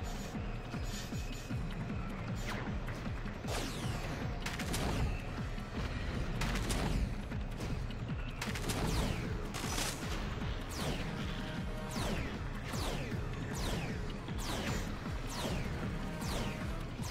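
Gunfire in the video game Bionicle Heroes: repeated sharp blasts and crashing impacts in rapid, irregular bursts, loud and continuous over a busy background with no talk.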